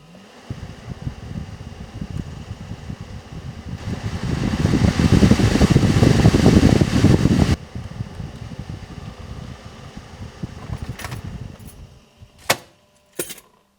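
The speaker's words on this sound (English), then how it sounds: "I'm going to test out the new blower fan and all the cables and motors" A new blower fan in a BMW E39 car runs with a steady broadband whoosh that swells louder in the middle, then drops back, ending with a few sharp clicks and knocks.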